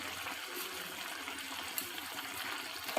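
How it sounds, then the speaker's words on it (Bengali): A little water is poured into a cooking pot of chickpeas and potatoes for a Bengali banana-flower dish, making a steady close trickle that lasts the whole moment. "সামান্য একটু জল দেব"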